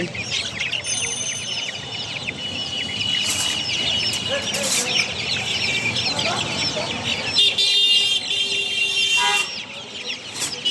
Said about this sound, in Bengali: এগুলো হচ্ছে টাইগার মুরগি